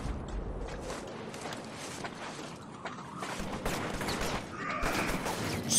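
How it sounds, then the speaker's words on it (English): Gunfire in the game inFamous, a steady stream of rapid shots and impacts mixed with mechanical game noise, fairly loud throughout with no talking. "Stop shooting me!"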